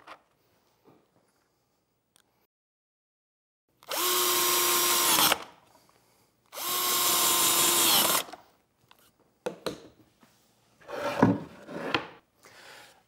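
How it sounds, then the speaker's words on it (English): A power drill drives screws into pocket-hole joints to join boards into a tabletop, with two steady whirring runs of over a second each followed by several shorter bursts, close and loud. "now I'm just going to start driving screws, working from the center out to the edges"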